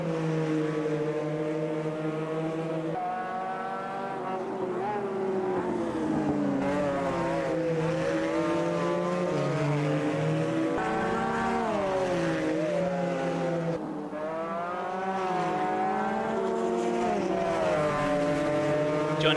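GT1 race cars lapping Kyalami in a RaceKraft Simulations sim race, their engines droning continuously with rising and falling pitch through gear changes, several cars overlapping close together and loud throughout.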